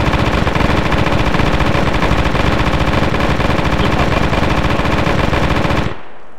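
Sustained automatic gunfire in the shooter video game The Last OutBreak, a loud, dense, rapid burst that runs without pause for about six seconds and then cuts off abruptly.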